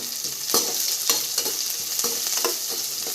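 Three dried red chillies frying in hot oil with popped mustard seeds and onion for a moong dal kuzhambu, a continuous close sizzle broken by regular scraping stirs about twice a second, with no talking.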